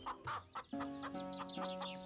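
Chickens at a chicken shop clucking close by, a few short squawks and then a run of rhythmic, tonal clucks, fairly quiet with no talking.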